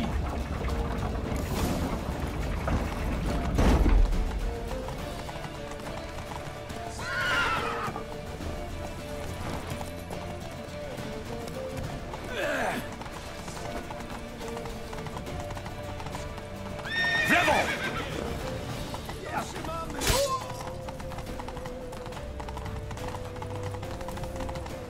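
Horse hooves clip-clopping at a gallop with whinnies and neighs in The Witcher 3, a steady hoofbeat rhythm running throughout with louder neighing bursts near the start, middle and end, set over game music and ambience.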